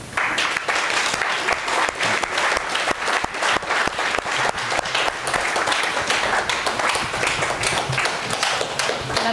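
A crowd at a political campaign event for a candidate applauds loudly and continuously, dense clapping filling the room for the whole stretch without letup.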